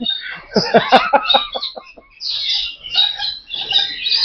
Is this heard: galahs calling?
yes